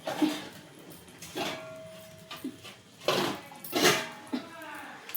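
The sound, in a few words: placing a handled lid on a pot of milk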